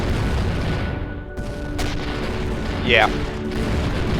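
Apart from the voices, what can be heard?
salvage guns firing in the video game Avorion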